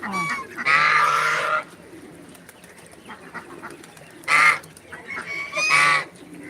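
Loud bursts of nasal honking quacks from ducks nearby, in three separate bouts with quieter background noise between them.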